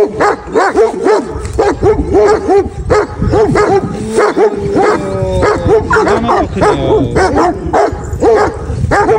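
Several dogs bark repeatedly in quick bursts close by, with yips and whimpers mixed in, loud and overlapping for the whole stretch.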